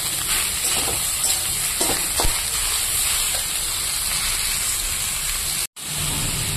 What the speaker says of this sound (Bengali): তো এই যে বাঁধাকপিটা মোটামুটি ভাজা হয়ে এসছে